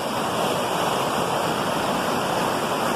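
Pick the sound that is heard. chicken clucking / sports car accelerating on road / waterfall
waterfall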